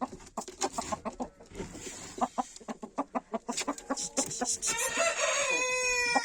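Roosters crow and chickens cluck in a backyard coop, a run of close clucks building to loud crowing near the end, with no talking.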